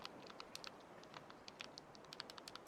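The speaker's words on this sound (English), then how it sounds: "It's just that I love keyboards that sound like this." Close, quiet typing on a computer keyboard for an ASMR session, a brisk run of crisp individual key taps over faint background hiss, no voices.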